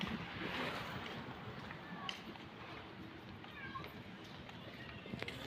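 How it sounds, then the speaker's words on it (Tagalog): A cat meows a few times, thin and somewhat faint, over a steady outdoor rush of wind-like noise and low rumble. "May pusa."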